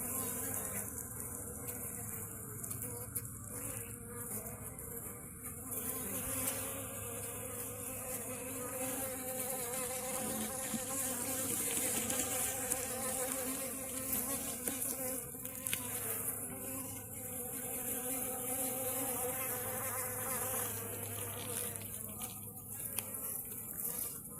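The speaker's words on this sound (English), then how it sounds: "forest bees, real survivor bees, all the conventional beekeepers dream about" Dense, continuous insect buzzing from many wild forest honey bees swarming close by, a steady droning hum that swells and eases slightly throughout, with no voices.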